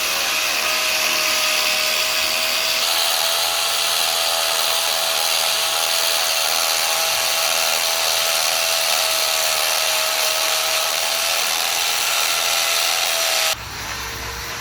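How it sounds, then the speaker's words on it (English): A loud, continuous power drill grinds steadily into a concrete column on a construction site with a sustained whine, cutting off abruptly near the end. "So they're up here drilling to put more steel out."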